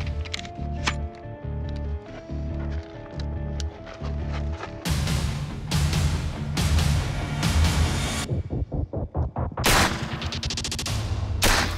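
Full-auto fire from an open-bolt machine gun: quieter mechanical clicks at first, then loud, rapid bursts of shots ripping out, separated by short gaps.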